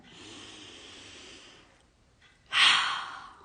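A slow, soft inhale runs through a quiet guided affirmation, then a pause, then a louder, breathy exhale pushed out close to the microphone.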